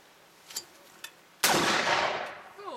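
A single sharp gunshot cracks at an outdoor shooting range, loud and close, with a broad blast that rings out and decays over about a second, preceded by a couple of faint clicks.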